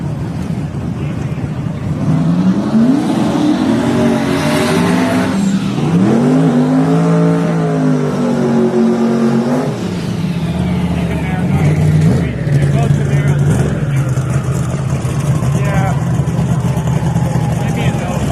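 Drag racing cars at a live drag strip event roar loudly as they accelerate down the track, engine pitch sweeping upward in long surges, with crowd and commentary voices mixed underneath.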